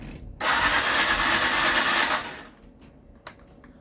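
A Honda CG125 motorcycle engine cranks and catches after a battery swap, a loud steady burst of roughly two seconds that cuts off sharply, followed by a quiet lull and one brief click.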